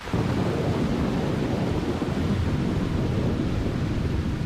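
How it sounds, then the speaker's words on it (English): A continuous roll of thunder rumbles over heavy, steady rain in a Silent Hill video game, loud and enveloping throughout with no pauses and no voices. "another thunder rolls in. This one, even louder"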